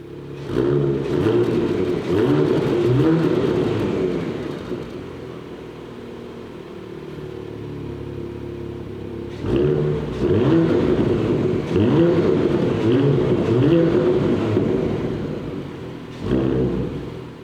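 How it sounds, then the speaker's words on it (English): A 2022 Porsche Macan GTS revs hard in two strong bursts through its four-pipe sports exhaust, the deep, burbling roar rising and falling at close range with a quieter idle between. "Real exhaust, no fake at all, 4 pipes overall. I would say, let's listen."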